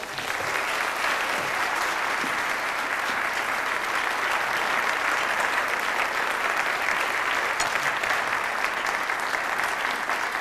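An audience applauds to welcome speaker Landrum Bolling at a talk about September 11th, with dense, steady clapping that fills the room for about ten seconds without letting up.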